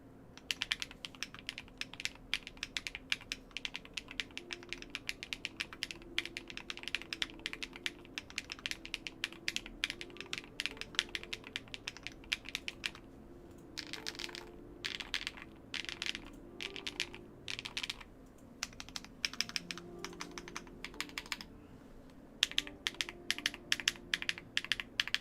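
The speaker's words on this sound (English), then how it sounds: "So this is what this keyboard sounds like, and this is pretty much one of the best sounding Hall effect keyboards that I own." Rapid typing on an Epomaker MagCore 87 Hall effect keyboard, a steady stream of crisp, close keystroke clacks with brief pauses, heard alone.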